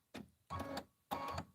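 An embroidery machine stitching fabric, three short mechanical bursts of rapid whirring and clatter separated by brief pauses, quiet and close.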